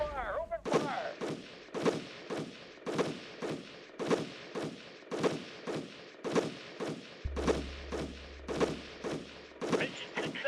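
Video game units opening fire: a long string of sharp, punchy gunshots at a steady rhythm of roughly two per second, close and loud, with a low hum entering partway through.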